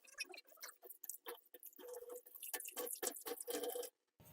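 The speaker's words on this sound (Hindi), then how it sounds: "पानी आपका इन जो छेद हैं इनमें से ड्रेन होके चला जाएगा" Water draining through the holes of a strainer holding coriander leaves in a kitchen, a quick faint patter of drips and trickles that fades out abruptly.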